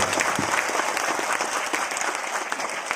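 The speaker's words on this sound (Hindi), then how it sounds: "अब तक की सबसे जोरदार तालियां ऊपर वाले के लिए एक बार हो जाए" Sustained applause from a large audience at a motivational speech event in Ranchi, a dense even patter of many hands held at steady loudness for the whole stretch with no voices over it.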